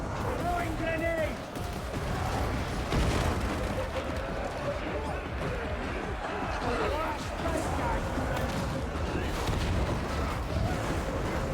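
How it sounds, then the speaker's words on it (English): Grenade explosions in the Darktide video game, muffled booms and crashing bursts amid continuous gunfire and combat din over about ten seconds, with a person talking throughout. "Throwing grenade!"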